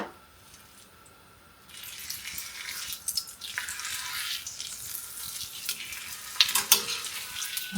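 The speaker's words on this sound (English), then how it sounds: "I'm just going to fry it up real quick on both sides until I think it looks like it's going to be crispy." Keto taco shells fry in ghee in a pan over medium heat, a soft hiss that swells into a steady sizzle with faint clinks and crackles, close and without talk.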